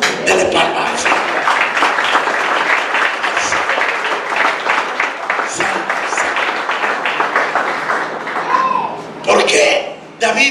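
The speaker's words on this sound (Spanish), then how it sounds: "Dale palmas al Señor" Church congregation clapping and applauding during a Spanish-language sermon, loud, dense, continuous clapping close up with voices and cheers mixed in and some talk near the end.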